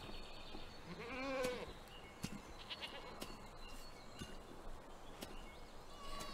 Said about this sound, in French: La chèvre adulte.